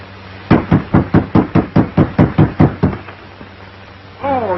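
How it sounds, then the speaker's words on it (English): Loud, close knocking on a door: about eleven firm, evenly spaced raps in a steady run, then a pause before a voice begins. "Knock again, louder."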